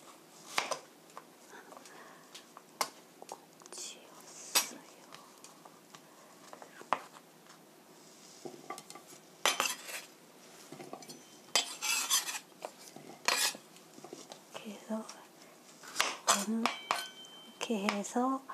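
Zucchini is sliced with a knife into 0.5 cm rounds: light, irregular taps and clinks against a board, some in quick clusters, with a voice speaking at times.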